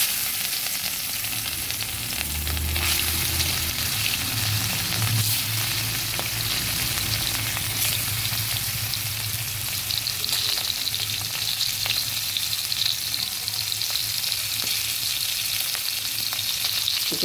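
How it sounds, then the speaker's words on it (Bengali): Rohu fish pieces frying in hot oil in a kadai, a loud continuous hiss and crackle that holds steady throughout, close and without voices. "কড়াইতে তেল দিয়ে দিচ্ছি। এবার মাছগুলো ভেজে নিচ্ছি।"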